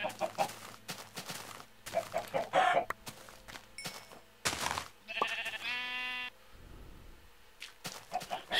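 Chickens in Minecraft cluck in short bursts among other blocky game sounds, including a bleating sheep and scattered footsteps, heard alone without talk.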